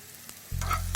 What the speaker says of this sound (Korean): 마늘을 어느 정도 볶아서 색깔이 노릇하게 나면